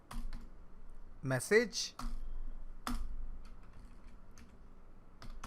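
Code typed on a computer keyboard in short clattering bursts of key clicks, with a person talking over the typing.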